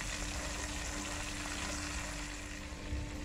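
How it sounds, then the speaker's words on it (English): Lobster tails frying in a pan over medium heat, a steady dense sizzle holding at an even level throughout with no talking. "I'm going to fry each side of this lobster for about 10 to 15 minutes on medium heat"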